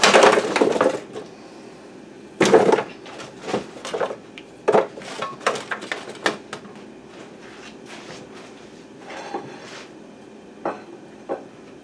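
Cut-up large potatoes set along the sides of a pork roast in a pan, giving a few soft knocks and scrapes that start loud and trail off into lighter, scattered taps with no talking.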